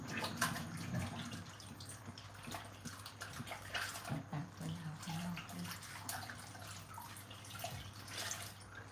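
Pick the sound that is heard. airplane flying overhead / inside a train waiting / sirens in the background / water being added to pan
water being added to pan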